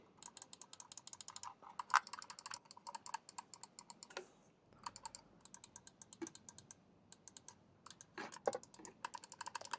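A cheap computer mouse has its buttons clicked one after another, crisp close clicks in quick irregular bursts with short pauses, quiet room, no talk.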